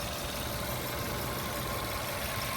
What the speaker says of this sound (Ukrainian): А зараз заведу двигун